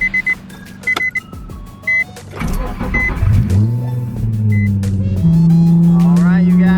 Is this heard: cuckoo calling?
no